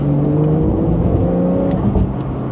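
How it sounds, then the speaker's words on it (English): A Porsche 992 GTS engine in sport mode roars steadily at high revs, loud and close, with a smooth throaty drone that holds throughout without any talking. "the sound of the GTS in sports mode"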